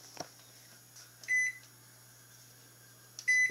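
Kitchen timer while a pumpkin cheesecake bakes: a short, faint click, then two clear electronic beeps spaced about two seconds apart over a quiet background hum.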